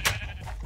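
A sheep bleats once in Minecraft, a short nasal cry at the very start followed by faint game background, brief and fairly close.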